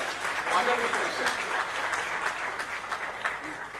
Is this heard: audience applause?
yes